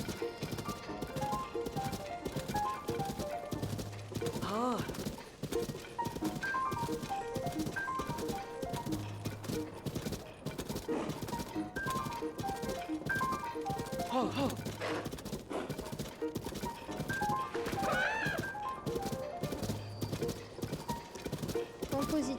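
Steady clip-clopping of hooves with occasional neighs from a horse in Zelda: Tears of the Kingdom, over game music and a voice talking throughout.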